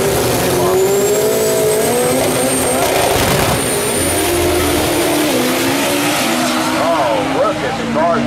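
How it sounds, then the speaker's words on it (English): Drag racing cars launch off the start line with a loud, sustained engine roar whose rising and sliding tones sweep upward, heard close with an announcer talking over it. "Cars jump out of the gate."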